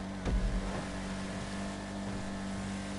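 The engine of a Vapid Ellie racing in GTA Online gives a steady, buzzing drone with a brief low rumble near the start, holding a constant pitch at moderate loudness.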